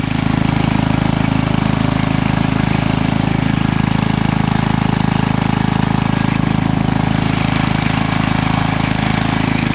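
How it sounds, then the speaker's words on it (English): A 1976 log splitter's small engine runs steadily at a loud, constant chug, close by, with no voices and no change in pace throughout. "there's our log splitter. It's from the 1970s."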